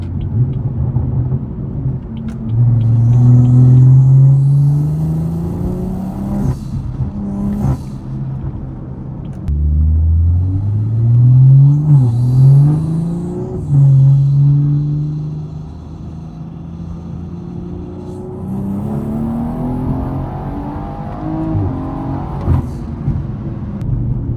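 A BMW 340i running on race gas pulls hard from inside the cabin, the engine rising in pitch through several gears with sharp drops at each shift, loud and throaty, then easing to a lower rumble.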